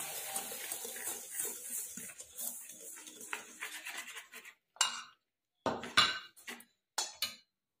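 Pitha batter ingredients with a pinch of salt being stirred in a bowl, a run of scraping, clinking spoon strokes that breaks into short separate bursts with silent gaps, close and fairly quiet.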